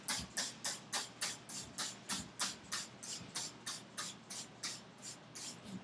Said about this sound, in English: So you just want to lightly spray it on the walls